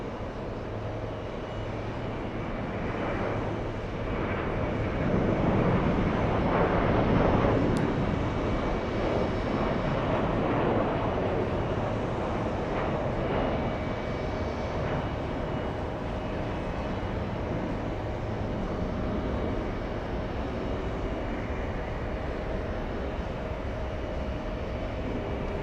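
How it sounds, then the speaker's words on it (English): A JetBlue airliner takes off at an airport at night, its engine roar a broad steady rumble that swells around the middle and holds fairly loud throughout, with no talk over it. "Next takeoff, we have JetBlue 479."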